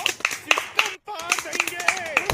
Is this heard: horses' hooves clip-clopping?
no